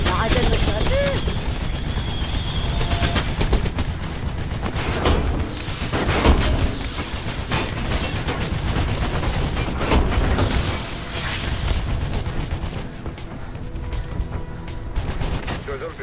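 Video game gunfire: repeated sharp shots and bursts of automatic fire crackle irregularly over a game soundtrack, with a French-speaking player talking through much of it.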